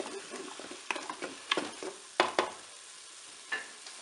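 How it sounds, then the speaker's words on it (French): Onions frying with crumbled sole fillets in a Cookeo multicooker, stirred in bursts: soft sizzle beneath several sharp scraping stirs clustered in the middle, with a last scrape near the end. "je vais pouvoir ajouter mes oignons pour les faire revenir avec"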